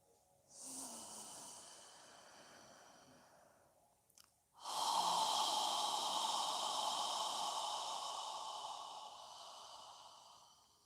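Deep yoga breathing, with long airy exhalations pushed out close to the microphone: one shorter breath, a brief pause, then a longer, sustained forceful exhale, with no talk.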